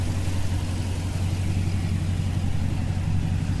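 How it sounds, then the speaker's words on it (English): A 2001 Toyota Sequoia with a straight pipe exhaust rumbles steadily and deeply at close range, a continuous low engine drone with no talk. "I'll have my wife get in and give it a good rev."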